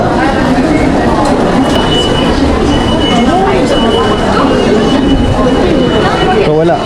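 A train passes through a Tokyo station, a continuous loud rumble with screeching wheel tones, heard under nearby talking voices.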